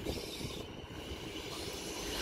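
Low rumble and hiss of a departing Class 450 electric train, units 450087 and 450084, rolling along the rails, fairly quiet and steady, with faint mechanical rattling and no voices.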